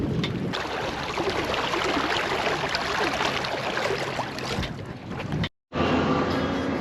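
A MacGregor sailboat heeled over in a light breeze on the lake at Hoover Dam, with steady wind rush and water noise loud and close throughout, briefly cutting out near the end before resuming.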